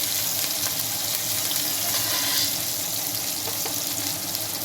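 Curry leaves, mustard seeds and chopped onion crackle loudly in hot oil, a dense, steady close-up sizzle with no talking.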